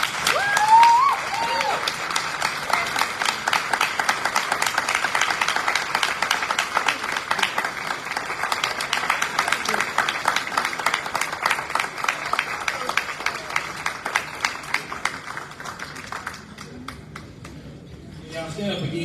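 A seated audience at a gathering of Black elected municipal officials in North Carolina breaks into sustained applause, dense rapid clapping that holds steady for most of the stretch before thinning out near the end, with voices mixed in.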